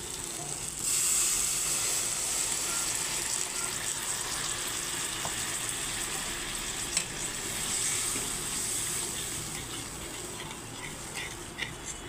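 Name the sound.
water added to frying onions in oil, sizzling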